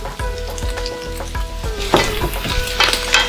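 Diced potatoes with red chili powder, turmeric and dry mango powder are stirred in a hot pan for samosa filling, giving a close, steady sizzle broken by repeated scraping strokes of the spoon.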